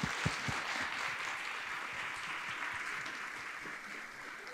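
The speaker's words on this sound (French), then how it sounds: "je passe la parole et je demande des applaudissements à Christophe Barbier" Audience applause for a speaker at a back-to-school master class on the presidential elections, steady clapping from a crowd that fills the whole stretch, with scattered louder claps near the start.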